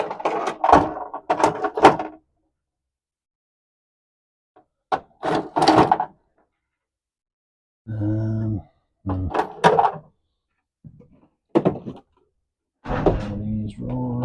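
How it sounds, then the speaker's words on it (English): Garage tool drawers are pulled open and pushed shut in several bursts of clattering and sliding, with metal tools rattling inside. A man mutters between them while hunting for a socket adapter for a 2004 Chevy Avalanche lift-kit job. "These drawers."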